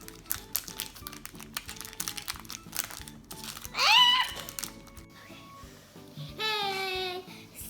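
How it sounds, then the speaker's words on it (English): A plastic bag is pulled and torn open by hand, with crinkling and crunching over a few seconds, then a high toy-like squeal and a voice briefly. "Let's see if we can open this bag without scissors"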